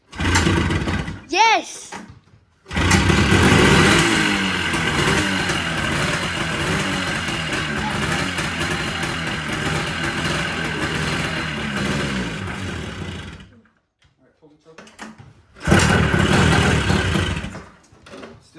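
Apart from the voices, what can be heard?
old snowmobile engine starting and running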